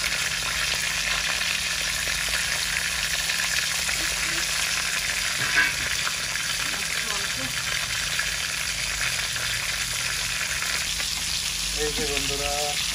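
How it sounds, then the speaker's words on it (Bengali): Hilsa fish sizzles steadily in a frying pan as it fries on one side, giving a continuous close crackle with a few faint clinks, while voices are briefly heard near the end. "এই যে বন্ধুরা আমাদের মাছ এক পিঠ ভাজা হয়ে গেছে, এখন উল্টে দিবে।"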